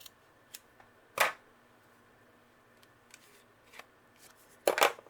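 A few crisp snipping cuts of scissors trimming scrap paper for a scrapbook embellishment, one near 1.2 seconds and a louder double snip near the end, separated by quiet.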